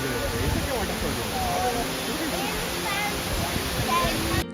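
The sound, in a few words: waterfall in Coorg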